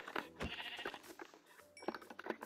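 Bleating from a Minecraft sheep comes in two short wavering cries separated by a brief gap, close and moderately loud, with light game clicks around them.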